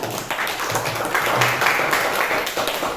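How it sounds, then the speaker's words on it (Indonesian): A group claps together in a brief burst of applause, the clapping fairly loud and close, with some voices mixed in. "beri tepuk tangan untuk kelompok 1."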